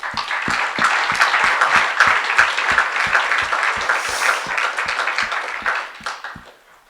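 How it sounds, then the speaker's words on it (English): A round of applause from a welcome-session audience at a patient learning academy, steady dense clapping throughout that tapers off at the end, with no talking. "So I would like if we could just give them a round of applause"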